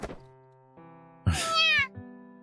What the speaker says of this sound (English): we hear a tiny meow from inside